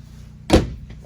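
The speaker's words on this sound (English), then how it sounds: "Pocket door." Pocket door in the living quarters of a 2016 Lakota four-horse trailer, one short sliding thump as it closes, close and fairly loud, with no talk.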